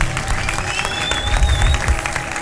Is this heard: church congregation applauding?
yes